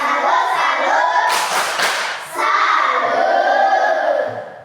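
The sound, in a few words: class clapping chant saluting a student group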